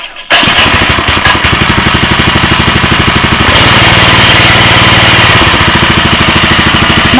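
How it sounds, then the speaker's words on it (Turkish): A Bolat four-stroke pesticide sprayer engine starts up abruptly and runs loud and close with a steady, fast mechanical chugging, its tone shifting slightly midway, with no talking. "Makine çalışıyor öyleyse."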